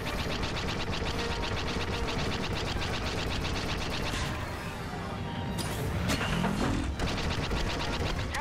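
Starship weapons firing in a space battle in the video game Star Wars Battlefront II, a steady dense barrage of blaster shots and crashing impacts running throughout alongside engine roar and effects.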